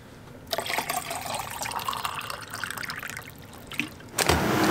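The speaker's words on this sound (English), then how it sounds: "Just getting some water." Water running from a tap in a workshop, a steady splashing trickle filling a container for about four seconds, fairly close, with no talking over it.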